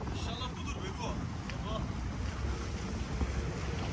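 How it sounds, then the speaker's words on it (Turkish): A boat coming in to dock in strong wind, with loud, steady wind buffeting the microphone and water noise throughout, and faint voices talking in the background. "Teknemiz geliyor."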